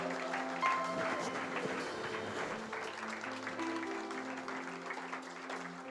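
A church congregation claps together to acclaim the Lord, a sustained wash of applause with music and tones held underneath, filling the room for several seconds.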